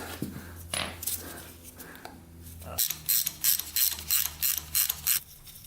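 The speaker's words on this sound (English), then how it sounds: "Alright, let's get a new plug in it." Ratchet clicking in quick, evenly spaced bursts as a new spark plug is fitted on a Kawasaki KLT 250 three-wheeler, after some brief handling noise; close and fairly loud, with no talk.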